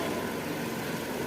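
The engine of a Proton Exora CPS car with an automatic gearbox idles while the car sits on jack stands for a gearbox oil flush. It gives a steady, close, even hum with no talking.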